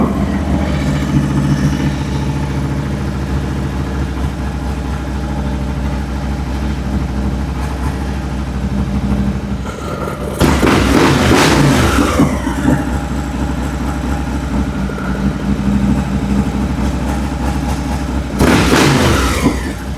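A Harley-Davidson Road Glide engine, recently revived and awaiting carburetor adjustment, idles with a steady low rumble, then is revved up twice in strong surges before settling back.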